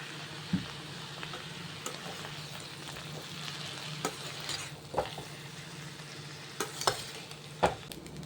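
Noodles tossed with Schezwan sauce are stir-fried in a pan, with a soft continuous sizzle and intermittent sharp scrapes and clacks of the utensil against the pan.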